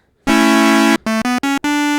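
Sequential Prophet 6 synthesizer with oscillator sync engaged, playing a bright, buzzy harmonic-rich tone: one long sustained note followed by three short staccato notes and a final held note, loud and alone.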